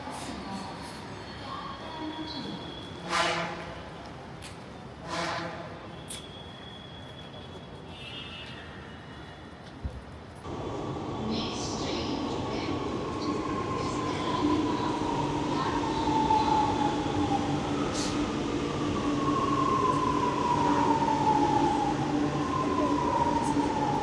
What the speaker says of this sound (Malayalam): ഇത് എയർപോർട്ടിലേക്കുള്ള ട്രെയിനാണ്.